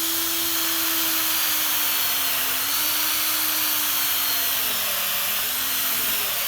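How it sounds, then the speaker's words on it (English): A drill fitted with a reamer reams a hole in a tyre, its steady, high-pitched whine running continuously at close range, pitch sagging slightly as it bites into the rubber. "put the reamer in the drill"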